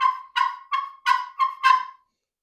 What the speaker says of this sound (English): This is the Hayes Badass Gobbler. It's a nice slate call.